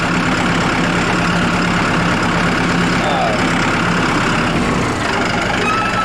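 A tractor engine idles with a steady low rumble throughout, close by and continuous, with no clear speech over it.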